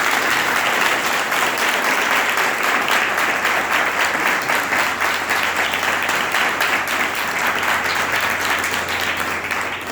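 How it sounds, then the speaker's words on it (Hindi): A church congregation at a sermon applauds loudly, with steady, dense clapping that continues at full strength for the whole ten seconds and no voices over it. "आइए परमेश्वर के लिए जोरदार ताली बजाएं"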